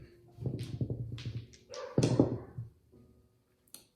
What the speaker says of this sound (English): I guess you can listen to the dog and listen to the music in the background